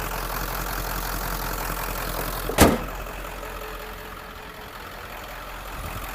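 A 1997 Ford F450 diesel truck engine idles steadily in a low, even rumble, with one brief sharp knock or clunk partway through and no talk.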